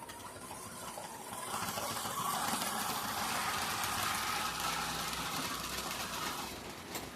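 A Tyco model diesel locomotive runs on its track, a quiet, steady mechanical whir that swells in the middle and fades toward the end, heard close and alone.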